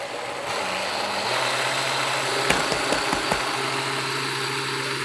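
A blender whirs steadily, grinding moong dal lentil batter with turmeric and black pepper, a continuous close motor drone with a few brief knocks midway.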